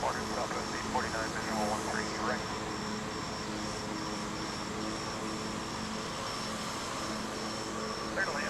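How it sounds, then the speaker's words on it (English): An American Airlines Airbus A321 arriving at Dallas Fort Worth airport gives a steady, fairly faint jet hum with a high whine, heard under a speaking voice. "There's an Airbus A321 coming in from Orlando, Florida."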